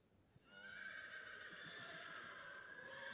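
A horse at a Dutch horse inspection lets out a loud, sustained neigh lasting several seconds, a strong whinnying cry with soft hoof and background noise beneath it.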